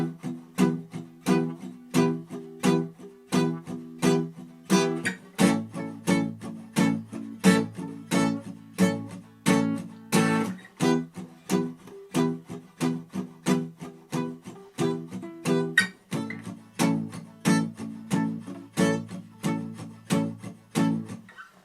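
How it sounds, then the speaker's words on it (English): Steady percussive rhythm with strong hits alternating against softer ones, a clear pattern of loud accents and quieter in-between strokes repeating evenly throughout, close and unaccompanied by talk. "So we've got a loud one and then a soft one."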